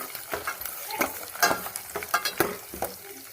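Peanuts, urad dal and chana dal frying in oil in a pan for upma, a soft sizzle broken by irregular scraping stirs of a spoon against the pan, close by with no talk.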